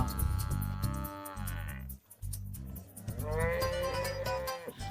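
A buffalo moos loudly and close by, giving two long, drawn-out low calls separated by a brief pause.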